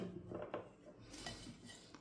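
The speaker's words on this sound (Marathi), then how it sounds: "आता याला चांगलं मिक्स करतो." A spoon stirring and mixing tandoori chicken marinade in a bowl, with soft scraping and light clinks against the dish, quiet and close, no talking.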